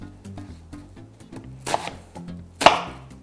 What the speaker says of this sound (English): So this is a yellow onion. I'm just going to cut it into pretty good sized chunks.